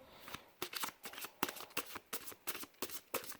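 Tarot cards, a Zodiac deck, shuffled by hand in quick riffling bursts, close and crisp, repeating about every third of a second with short pauses between.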